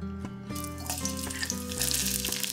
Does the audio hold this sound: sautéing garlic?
yes